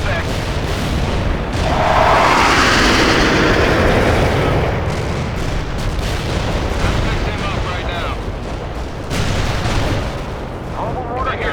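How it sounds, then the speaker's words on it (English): Artillery barrage in the World in Conflict strategy game, a dense, continuous roll of loud booming explosions and rumbling blasts lasting throughout, swelling in the middle and staying heavy to the end. "Artillery barrage is for full effect."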